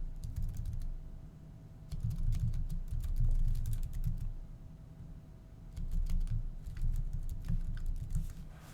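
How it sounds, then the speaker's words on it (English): Steady keyboard typing on a computer while a commit message is entered for a Bitbucket repository, with bursts of clicking keys separated by short pauses over a low background hum. "Type a message."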